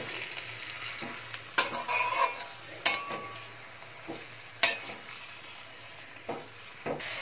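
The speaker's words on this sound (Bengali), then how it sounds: "আমি একটু নাড়াচাড়া করে নিচ্ছি।" Chickpea greens (cholar shak) are stirred in a pan, with a soft, steady sizzle and scraping broken by a few sharp utensil clinks against the metal; no talking.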